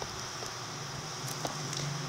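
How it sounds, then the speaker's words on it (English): Rain falls in the Minecraft video game as a steady, even hiss that stays constant throughout, with no speech over it. "Oh, it's raining."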